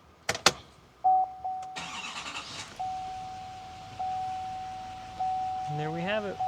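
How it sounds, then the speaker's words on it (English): A 2017-2021 Chevy/GMC 3500 pickup's L5P Duramax diesel engine cranks and starts after a few clicks and a chime, after a fuel filter replacement, then settles into a low idle, with a steady warning beep repeating. "All right, we're going to start the truck up."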